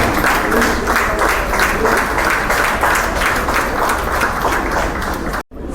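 An audience applauds to welcome the chief guest at the opening of a new clubhouse for elderly residents of a private housing complex. The clapping is dense, loud and steady, then cuts off abruptly just before the end.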